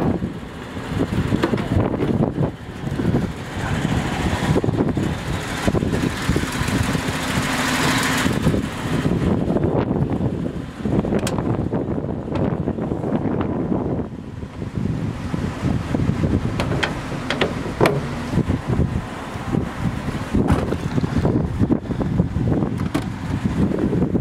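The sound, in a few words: 1938 Chrysler Royal C18 convertible driving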